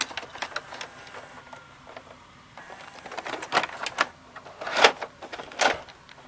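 An old metal-built VCR stops and ejects a tape, giving a series of close mechanical clicks, whirs and clunks, with louder clacks toward the end as the mechanism pushes the tape out.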